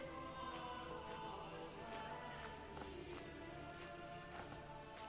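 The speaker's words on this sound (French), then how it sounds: "Regardez-moi ça, il pleut, des flaques qui se forment au sol." Steady rain falls in a Manor Lords village scene, a dense continuous hiss of drops spattering on ground and puddles, with faint game music tones underneath and no speech.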